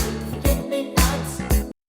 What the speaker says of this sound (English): some kind of a hi-hat or shaker up in the top end